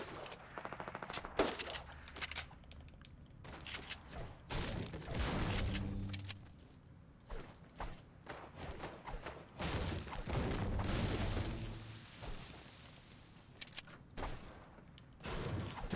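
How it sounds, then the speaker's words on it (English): Submachine gun fire in a video game comes in repeated rapid bursts, some sharp and close, others duller and heavier, with scattered single shots and gaps between volleys, and no talking. "Gotta be an SMG."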